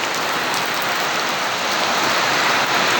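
Heavy rain pours steadily in Cebu, a dense, even hiss of drops on surfaces that holds at a constant loud level throughout, with no voices.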